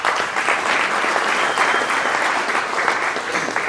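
Audience at an investor summit applauds, a dense, steady clapping from a large crowd sustained throughout at close range.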